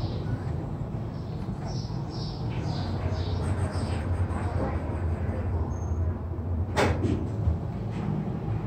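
Thyssen Krupp elevator doors in a parking garage slide slowly, a steady low mechanical rumble under a sharp clunk near the end as they finish moving, heard close up without talk.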